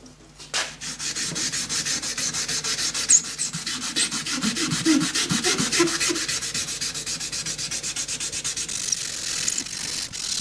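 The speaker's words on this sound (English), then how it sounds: "I'm just using some 400 grit wet and dry on a fairly hard rubber block." Wet sanding of a tin toy car body with 400 grit wet and dry paper on a fairly hard rubber block, a close, steady rhythmic rubbing rasp of quick strokes running throughout.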